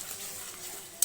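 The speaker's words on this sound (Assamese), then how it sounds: "মছলাখিনি ধুনীয়াকৈ ভাজি লৈছোঁ" Spices fry and are stirred in a wok for a raw-banana kofta curry, making a brief soft sizzle with a stirring scrape and a light metallic clink at the very end.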